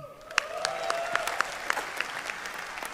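Students in a hall clap in applause, brisk layered handclaps with a few sharp individual claps standing out, steady and fairly close throughout.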